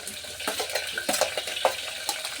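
Green chilies and carrot go into a pan for a basmati-rice vegetable biryani, with close stirring, light clinks of a utensil against the pan and a soft sizzle, with no talking.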